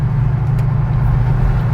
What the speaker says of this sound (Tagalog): That's an old Honda Civic hatchback.